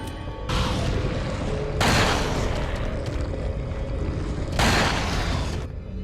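Resident Evil 4 gameplay fires heavy weapon blasts, two sharp booming bursts with rumbling tails, set against a loud, continuous, rumbling game soundscape with no talk.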